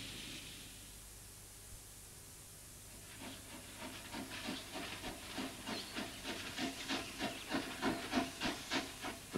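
An Australian steam train from 1985, a soft steady hiss building into rhythmic chuffing puffs that grow louder and quicker as it gets under way, heard faintly and from some distance with no voices.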